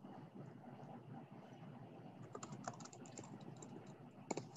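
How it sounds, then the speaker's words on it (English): Quiet, rapid typing on a computer keyboard as a note is entered, a steady patter of soft light clicks over faint background hum, no talk. "Just typing in my note right here"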